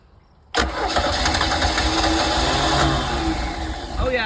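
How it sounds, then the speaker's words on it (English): A 1982 Sea Ray boat engine cranks and catches after a brief quiet moment, then runs loudly and steadily for several seconds close by, with a slight rise near the end. "I'm gonna fire it over"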